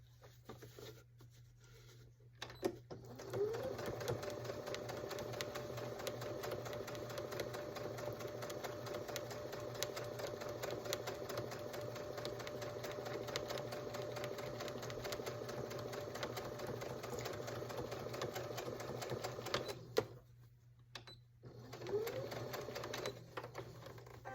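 A sewing machine top stitches a baby bib in one long, steady humming run, pausing briefly near the end before starting up again, close and fairly quiet.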